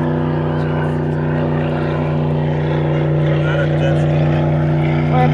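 A motorboat or jet ski passes on a river, its engine droning loudly and steadily with a constant tone throughout, and a voice is heard over it.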